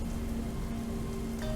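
Heavy rain pours down in a torrent against an Uber's windshield while the wipers run at full speed, a steady, dense wash of drops that holds at the same level throughout, with no voices.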